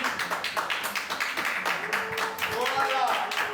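A group of people claps for a performer at a live show, a burst of scattered hand claps that thins out as voices and faint tones take over.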